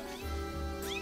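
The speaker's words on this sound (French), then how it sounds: "Ouais, c'est un chat avec des grosses oreilles." A big-eared, cat-like creature in the Zelda Skyward Sword video game gives a short meow over steady, sustained game tones.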